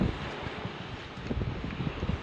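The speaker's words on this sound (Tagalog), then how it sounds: "Siguro rinig nyo po ang ingay ng hangin." Steady wind roaring across open water at sea at night, a broad continuous rush with low gusty buffeting against the microphone, close and fairly loud with no voices.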